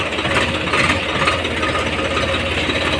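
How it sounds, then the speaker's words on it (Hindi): A Powertrac tractor engine runs steadily at close range, a continuous loud mid-low drone with no breaks or talk over the three seconds. "तो यहाँ से मैं ट्रैक्टर को निकाल रहा हूँ हमारे घर से"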